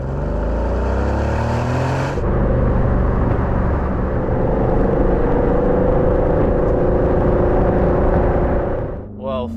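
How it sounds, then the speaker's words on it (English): A 2023 Porsche Cayenne Turbo with a V8 engine in sport mode, on the road with a GT package, gives a loud, steady engine roar that climbs in pitch as it accelerates, then holds a sustained drone up close throughout. "that is a highly emotional sounding engine. And I'm just in sport mode at the moment, and that sounds glorious."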